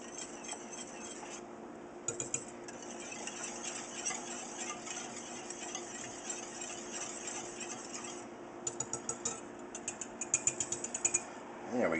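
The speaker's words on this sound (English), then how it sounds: "I'm going to whisk that in" Metal whisk stirring sugar into homemade jam in a pot, a steady scraping and rattling that runs close and constant, with a burst of quick clicking taps near the end.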